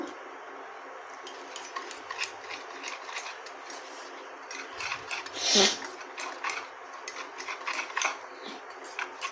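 Chopped onion, salt and other ingredients are stirred together in a bowl, making faint, irregular clicks and scrapes of a utensil against the vessel, with a brief louder clatter partway through.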